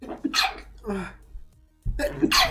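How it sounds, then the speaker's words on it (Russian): A man sneezes a few times, short bursts with pauses between, close to the microphone, next to a brief spoken word. "Вот, я даже, видишь, почихал в твою честь."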